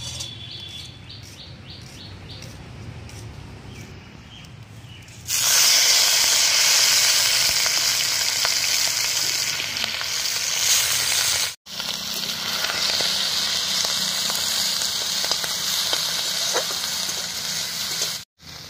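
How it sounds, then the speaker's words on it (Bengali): Faint chirping gives way to a sudden loud, steady hiss as prawn heads hit hot oil and keep frying vigorously. "চিংড়ি মাছের মাথাগুলো ভালো করে ভেজে নেব।"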